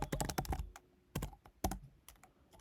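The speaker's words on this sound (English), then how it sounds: "you access it simply by typing Python 3 and hitting enter" Someone types on a computer keyboard at a Linux setup with an Nvidia graphics card, close up. Fast clusters of crisp key clicks are broken by short pauses, then single heavier strokes, with no speech.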